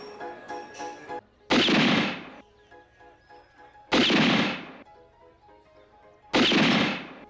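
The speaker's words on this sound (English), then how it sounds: "It's just some jerk shooting bottles and cans." Gunshots fired at bottles and cans in an animated Western, three loud, blunt blasts spaced a couple of seconds apart, each ringing out for about a second over a quiet musical score.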